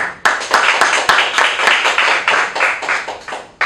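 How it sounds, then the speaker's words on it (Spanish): Brisk audience clapping for young participants at an advanced technology seminar, a rapid run of sharp, close hand claps in a fairly steady rhythm, loud and without talk. "Quisiera dar un aplauso a ellos, por favor"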